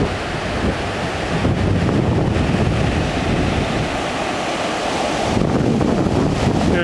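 Ocean surf breaking on the beach at LaPush, Washington, a steady loud wash of waves with wind buffeting the microphone throughout, rising slightly near the end, and no voices.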